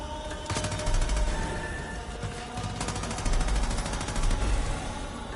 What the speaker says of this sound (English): Light machine gun's good.